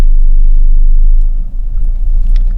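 A Peugeot 2008 crossover with a 1.6 e-HDi diesel pulls away, a loud low cabin rumble with a slight dip partway through, no talking.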